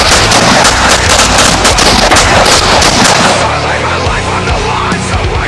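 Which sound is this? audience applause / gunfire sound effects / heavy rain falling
gunfire sound effects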